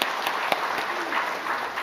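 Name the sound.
congregation applauding in church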